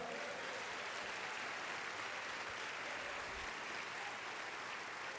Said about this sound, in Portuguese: Dê-lhe um aplauso,